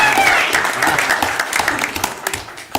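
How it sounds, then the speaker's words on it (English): An audience at a board of directors meeting breaks into steady, close applause, a dense patter of many hands that thins out and ends with a few scattered claps. "Y'all give them a round of applause."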